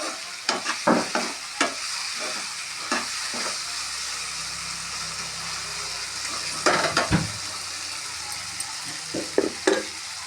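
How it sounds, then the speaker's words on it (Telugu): Vegetables including tomato frying in oil in a pan, a steady background sizzle punctuated by repeated sharp spatula scrapes and knocks against the pan, close and clear. "ఇలా అన్నీ ఆయిల్లోనే ఫ్రై అవ్వాలి ఫ్రెండ్స్."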